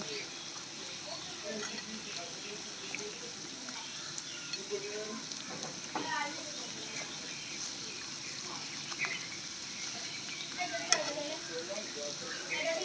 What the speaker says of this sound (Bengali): উল্টো পাল্টা ভালো করে ভেজে নিয়েছি